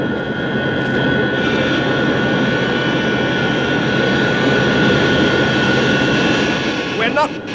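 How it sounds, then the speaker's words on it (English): Spacecraft retrojets fire during a landing, a loud sustained jet-like roar holding steady before easing slightly at the end. "The jets are about to fire."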